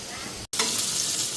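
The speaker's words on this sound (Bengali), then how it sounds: "আর এখানে আলু পেঁয়াজ ভাজলাম, বাবুর জন্য ভাত ভাজুম" Potatoes and onions frying in a pan give a steady, close, bright sizzle that cuts out for a moment partway through, then carries on.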